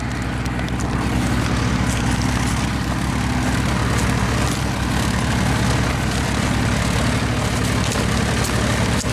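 A Nuffield tractor ploughing during a 24-hour ploughing challenge at Arlingham, Gloucestershire, its engine a steady, loud, low diesel rumble running continuously at close range with no talk.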